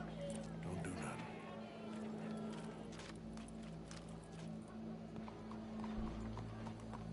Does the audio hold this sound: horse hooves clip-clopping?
yes